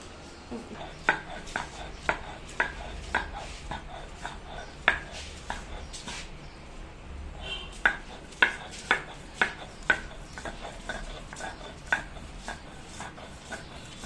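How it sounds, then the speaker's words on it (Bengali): Rhythmic knocks and scrapes of a stone grinding fried beef on a stone slab, steady repeated strokes roughly twice a second, close by with no talking. "এটাকে এখন আমি শিলপাটায় বেটে নেব"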